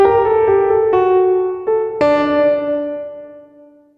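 A few sustained, harmonically rich notes with sharp attacks run through an LX480 reverb plugin using Spin and Wander modulation; the last note blooms into a long, gently drifting tail that fades away.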